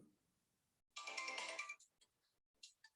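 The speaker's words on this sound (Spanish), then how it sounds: "Espera que estoy parando el celular." A mobile phone gives a short burst of bright electronic ringtone, followed by a few faint chirps, quiet and close in an otherwise hushed room.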